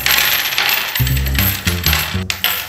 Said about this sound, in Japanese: じゃあまず小銭出しますね